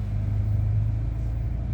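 A car reverse parking into a very tight little driveway, its engine giving a steady low idling rumble that holds close and even throughout.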